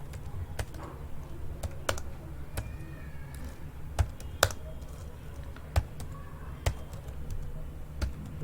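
Computer keyboard typing while someone codes a React JavaScript program, quick irregular key clicks with a few louder taps, close and fairly quiet, over a steady low room hum.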